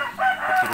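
An Indio Gigante rooster on a chicken farm in Temanggung lets out a brief, loud, nearby crow, cut short after less than a second.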